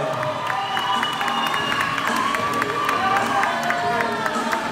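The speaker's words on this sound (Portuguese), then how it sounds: "Última pose para os aplausos de vocês" Audience at a bodybuilding contest, senior up-to-85-kg category, applauding and cheering throughout, with sharp whistles and shouts over a continuous crowd roar.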